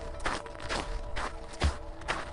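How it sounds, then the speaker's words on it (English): Footsteps crunching through snow, a handful of slow, evenly spaced crunches at close range. "like footsteps moving slowly through the snow"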